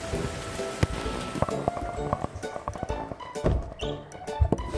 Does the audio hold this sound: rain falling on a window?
yes